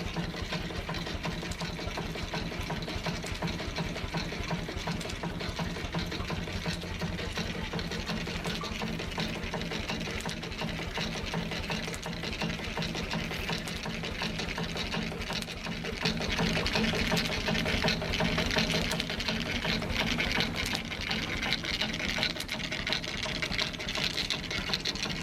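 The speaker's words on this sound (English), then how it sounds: "you might like to see the Morris engine running after a few minor adjustments" A Morris steam engine runs steadily in an old steam-powered machine shop with a fast, even mechanical chatter and rhythmic clatter, growing slightly louder partway through.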